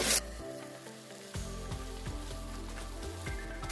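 Onions sizzle and fry loudly in hot oil in a pan with green chillies, peppercorns, cardamom, whole spices, mace and garlic for a red chicken curry, a continuous crackling hiss with no talk.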